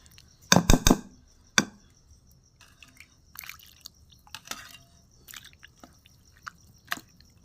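Rice flour batter is mixed by hand with warm water, producing a few soft wet slaps and squelches, strongest in a quick burst early on, then scattered faint dabs in a quiet setting.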